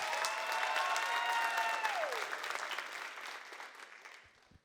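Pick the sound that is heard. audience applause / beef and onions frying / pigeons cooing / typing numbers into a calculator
audience applause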